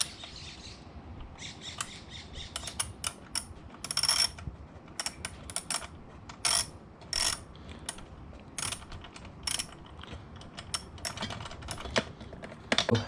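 A nut is tightened on the FMF Q4 exhaust header of a Kawasaki KLX250 motorcycle. Quick, close ratchet clicks come in short irregular bursts with pauses between them.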